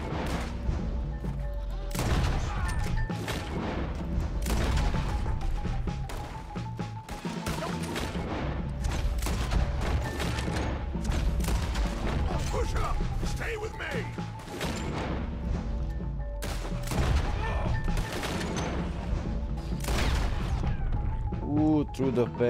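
Repeated gunshots from the Red Dead Redemption 2 video game, a dense run of sharp cracks and impacts over nearly the whole stretch, mixed with game music and shouted voices.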